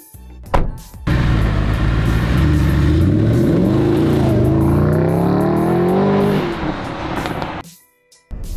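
A Mercedes-AMG GT sports car starts up with a sharp bark, then revs and pulls away, its loud, rising engine note climbing through the gears before cutting off abruptly near the end.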